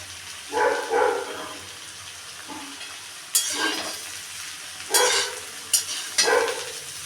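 Paneer cubes, green chili and vegetables frying together in a pan, heard as several separate bursts of sizzling and stirring scrapes spread across the stretch, fairly close, with quieter gaps between them and no talking.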